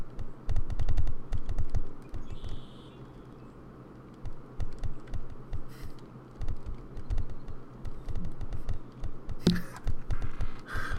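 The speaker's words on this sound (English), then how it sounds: "This thing is typing" Computer keyboard typed in quick, close bursts of clicking keys, pausing briefly in the middle before resuming, over a steady low electrical hum.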